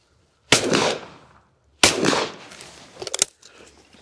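Shotgun fired at a clay target outdoors, with two sharp loud blasts about a second apart, each trailing into a decaying echo, followed by a few fainter clicks and knocks, no talking.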